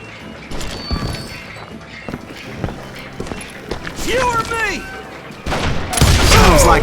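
Video game gunfight with a regiment of hired guns firing, sharp irregular shots and bursts mixed with crashes, building to a dense loud fusillade at the end, under voices talking.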